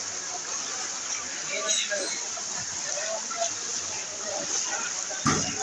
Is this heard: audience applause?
no